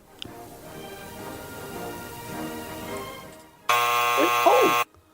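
Quiz show buzzer on a game show, a loud, flat electronic buzz held for about a second near the end after quieter studio murmur, cutting off abruptly.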